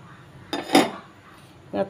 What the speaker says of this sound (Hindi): आतां हें कुल्ल्याचें सुकी करपाचें गॅसीचेर पॅन दवरला आनी तितून तेल घाता।